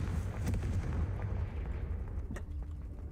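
Confringo fire spell blasts in Hogwarts Legacy, a series of sharp booming explosions and crackling bursts, fairly close, with a final pop and fading rumble.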